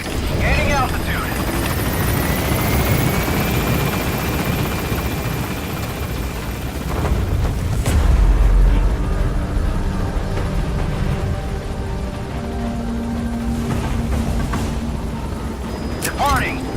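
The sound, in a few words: helicopter taking off in Metal Gear Solid V video game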